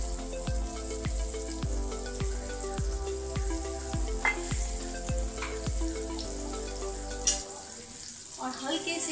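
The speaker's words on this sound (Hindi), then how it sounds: "इसमें थोड़ा सा बटर डालूंगी।" Butter sizzles in a lightly heated nonstick pan while pizza is being made, a steady soft crackle and hiss with a regular beat of background music that stops near the end, no voices.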